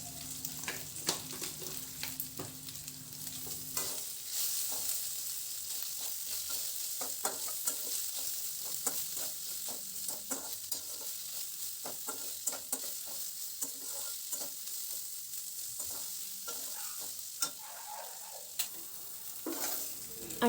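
Dried bombil fish fries in hot oil with a steady hiss, while repeated scraping clicks of a spoon stirring the pan sound close and clear throughout.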